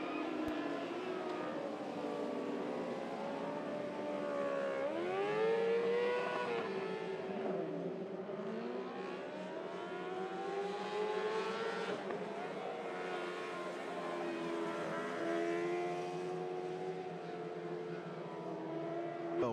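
600R mini sprint race cars roar around a track, their loud, continuous engine whine swooping up and down in pitch as they accelerate and lift through the turns.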